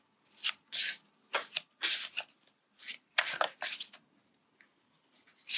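Tarot cards are shuffled in quick riffling bursts, about a dozen short crisp flutters close by, separated by brief pauses.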